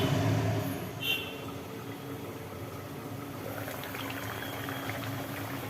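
Bengali egg curry gravy simmers in a pot on the stove, a soft, steady bubbling and burbling that continues evenly throughout at a low level.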